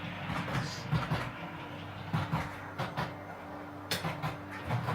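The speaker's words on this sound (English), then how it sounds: "We're going to stop this locomotive on the next loop." A model railway locomotive rolls along its track in a steady, quiet mechanical rumble with a faint hum and repeated light clicks over rail joints, fairly near and without speech.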